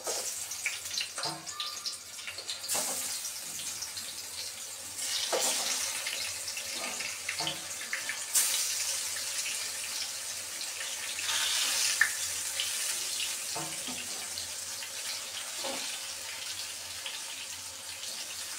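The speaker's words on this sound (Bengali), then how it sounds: "তেলটা যখন গরম হয়ে যাবে তখন এর মধ্যে আমি বড়াগুলো ভেজে নিব" Eggplant fritters (begun bora) fry in hot oil with a steady close-up sizzle and scattered crackles and pops, with no talking.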